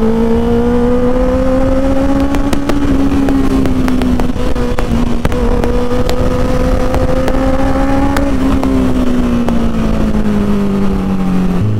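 A Honda CBR650F four-cylinder motorcycle engine holds a loud, smooth, steady tone on a road with traffic, its pitch rising gently and dropping near the end, with no voices over it.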